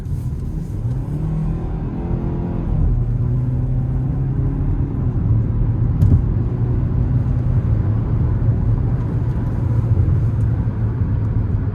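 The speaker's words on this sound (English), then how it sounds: "Now I'm gonna put it in a sport mode here. We're gonna give it a quick pull getting on the interstate." A 2026 Hyundai Tucson SEL in sport mode pulls hard onto an interstate, its engine rising in a loud, steady climbing drone over road rumble heard from inside the cabin, with no talking.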